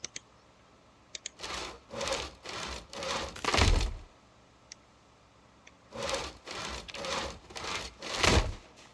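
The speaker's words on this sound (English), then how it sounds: "Watch me level up from sawing them." Wood being sawn by hand in Project Zomboid, two bursts of rhythmic back-and-forth rasping strokes, about five strokes each, separated by a quiet pause with faint clicks.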